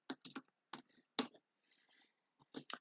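A few quick keystrokes on a computer keyboard typing a command in AutoCAD, light close clicks in short clusters separated by brief pauses, quiet and alone.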